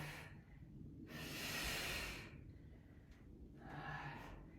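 Someone breathes audibly during a weighted squat, with two long, airy exhales separated by a quieter pause, soft and close with no talking.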